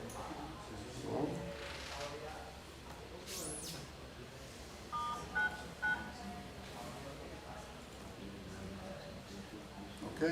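Telephone dialing tones during a SIP call test at a VoIP conference, a few short beeps and chirps scattered through a faint room hum, with talk heard in the background.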